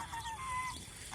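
Large domestic geese honk in a short, nasal call at close range, a single brief burst over faint background noise.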